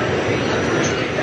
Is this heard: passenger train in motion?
yes